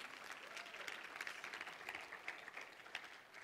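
A church congregation applauds, with steady, dense clapping from many hands at a moderate distance. The clapping is faint but continuous and holds an even intensity throughout.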